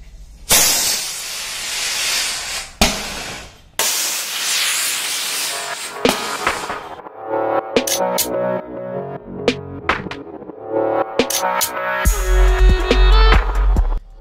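A Diwali anaar firework hisses and sprays steadily while driving a toy bullet train along a track, the loud rushing broken by a few sharp pauses and rattles before a stronger roaring burst near the end.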